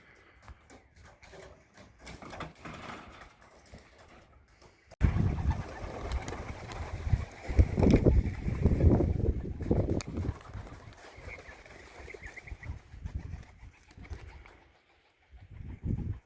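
Pigeons coo softly at first, then a sudden burst of wing flapping and fluttering erupts as the birds take flight, continuing in a busy rush before fading out.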